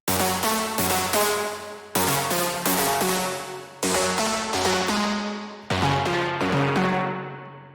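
A bright cosmic techno synthesizer lead plays a short repeating pattern of plucky notes, each phrase ending in a decaying tail, loud and alone.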